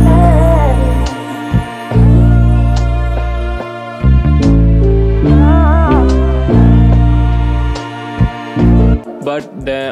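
A loud soul music sample with heavy bass, a drum break and a chime, played through continuously with bright tones and a clipped ending.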